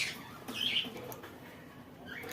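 Red-headed and black-headed pigeons in a loft give a few faint chirps and squawks, with brief calls around the middle and near the end over a quiet background.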